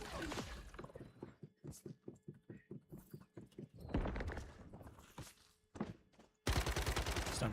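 Enemy gunfire aimed at the player in the survival shooter Once Human, a series of quick evenly spaced shots, then a louder burst and a sudden dense stretch of firing at the end.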